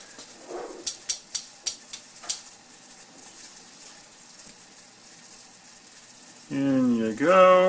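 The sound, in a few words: eggs stirred in a boiling pot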